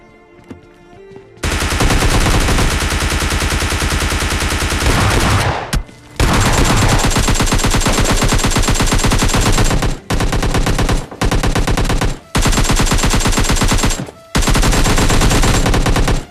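Loud, sustained automatic gunfire from the video game PUBG Lite, long continuous bursts separated by brief gaps, close and dominant with no talking.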